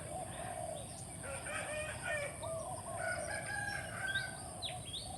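A rooster crows in the distance, its drawn-out call rising over quiet morning ambience with faint chirping birds nearby.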